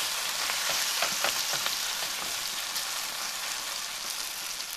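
Pancakes with herbs and chili peppers frying in a pan, giving a steady, dense crackling sizzle like rain tapping on a surface, with a few louder pops early on and no talk.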